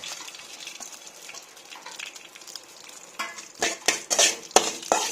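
Mustard seeds and split dal spluttering in hot coconut oil for a Kashi karande chilli dish, starting as a faint steady sizzle and then breaking into a run of sharp, louder pops and crackles near the end.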